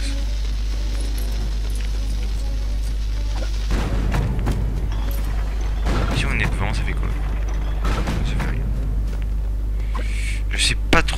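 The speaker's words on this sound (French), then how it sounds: "Le triple canon, ça c'est la clé." A triple cannon firing in the LEGO Pirates of the Caribbean video game, several booming blasts and crashes over a steady low game hum, with a few sharper bursts later on.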